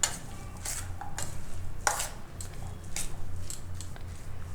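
Spoon stirring a soaked sabudana mixture in a bowl, soft wet scrapes and clicks at irregular intervals, close and fairly quiet over a low background hum.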